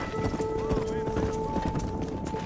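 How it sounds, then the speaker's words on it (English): In the video game Red Dead Redemption, a horse runs with rapid rhythmic clip-clop hoofbeats, close and steady under game sounds and talk. "O cavalo corre muito rápido aqui"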